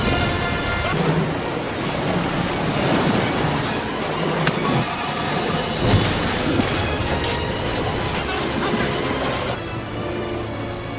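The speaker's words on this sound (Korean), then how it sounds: "뗏목을 만들어 이동하던 중 갑자기 물살이 거칠어지게 되면서" Rough river water rushes and roars around a raft in a film scene, a steady loud wash of churning current with scattered splashes throughout.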